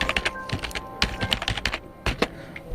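Rapid, uneven typing on a computer keyboard, with close, crisp key clicks in bursts and short pauses, with no talking.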